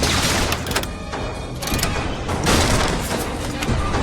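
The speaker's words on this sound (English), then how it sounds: "Rockets, watch out!" Rocket blasts in a BioShock cutscene, a dense run of loud booming impacts and heavy thuds layered over one another, with a brief lull before another surge of explosions, while a voice briefly shouts beneath the din.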